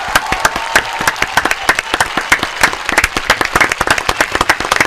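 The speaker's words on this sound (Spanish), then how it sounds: "Un aplauso." A studio audience on an Argentine radio show applauds steadily, a dense patter of many hands clapping for several seconds at fairly close range.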